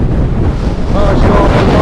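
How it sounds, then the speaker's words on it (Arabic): Stormy sea waves surge and crash on the shore at Aqaba, Jordan, a loud, continuous roar heavily mixed with strong wind buffeting the microphone. "ارجع الموج بسرعة"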